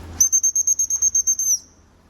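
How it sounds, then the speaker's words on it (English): A dog recall whistle is blown in a rapid series of about a dozen short, shrill pips, loud and close, then stops. "having the whistle in your mouth allows you to use the recall"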